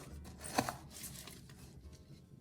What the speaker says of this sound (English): It took 3 scoops of soil to fill out our pot halfway